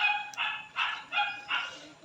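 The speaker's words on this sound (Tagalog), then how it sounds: "Ang ingay-ingay talaga ng aming aso." A dog barks four times in an even rhythm, each bark sharp and fairly close, with nothing else in the background.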